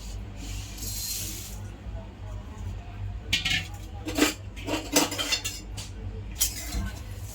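Puffed rice is dry-roasted in a hot kadhai for Makar Sankranti laddoos, giving a steady crackling hiss with a few sharp scrapes and clinks of a spoon against the metal pan.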